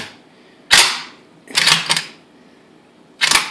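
Century C39 Sporter AK47 rifle bolt being racked and cleared, four sharp metallic clacks spaced about a second apart, the middle pair close together, loud and near with quiet between.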